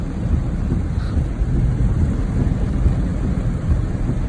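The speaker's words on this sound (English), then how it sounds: "It's thunder and lightning every 2 seconds." Heavy rain pours down during a dangerous thunderstorm over flooded streets, heard from inside a vehicle driving through deep water: a steady, loud, dense roar without pause, with low rumbling mixed in.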